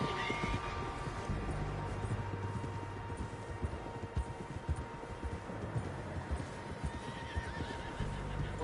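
Video game horses with a neigh or whinny and a soft clatter of hooves, fairly faint under a continuous low ambient rumble, with no clear talk.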